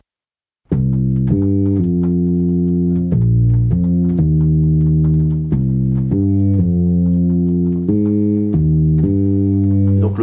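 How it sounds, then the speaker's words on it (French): A deep, round bass line from an analog synthesizer starts after a brief silence and runs continuously, stepping through sustained low notes in a steady, funky rhythm with faint percussive ticks above it. "j'ai essayé de trouver une basse que j'ai jouée sur un synthé analogique pour la rondeur du son"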